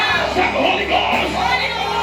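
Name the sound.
congregation shouting Holy Ghost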